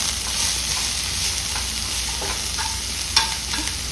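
Cauliflower stalks and chopped tomatoes sizzle steadily in a hot pan for chutney, with scraping stir strokes and a sharper clack near the end, close and continuous with no talking.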